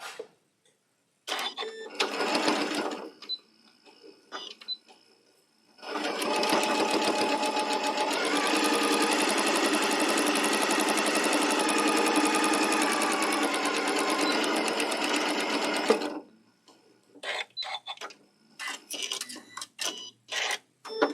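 Sewing machine stitching a table runner, a steady rapid whirring run of about ten seconds, with short bursts of stitching before and after and quiet gaps between.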